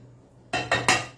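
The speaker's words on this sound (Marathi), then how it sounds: "त्याला मी आता इथे एका प्लेटमध्ये काढून घेते" Roasted seeds are tipped from a pan onto a plate, three quick clinking scrapes of metal on dishware in close succession after a quiet pause.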